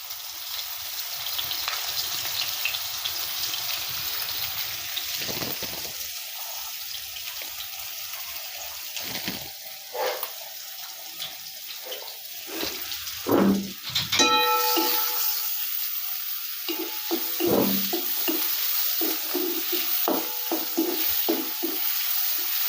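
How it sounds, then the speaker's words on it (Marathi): Onion frying in hot oil with home-grown curry leaves in a pan over a wood-fired clay stove, a steady close sizzle with occasional stirring clinks and scrapes. "तर तेल तापले तर आपण हे कांदा टाकून घ्यायचा भाजून"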